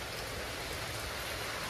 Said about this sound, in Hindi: तेज बारिश शुरू हो गई है, तेज बारिश के साथ तेज पवन आ रहा है